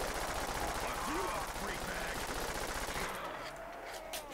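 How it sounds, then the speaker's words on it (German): Rapid pistol gunfire from a Call of Duty custom zombies game on the Harvest Moon map rattles continuously and densely at steady volume, with a voice talking over it. "Ich kann die Pistole einfach nur reinrattern"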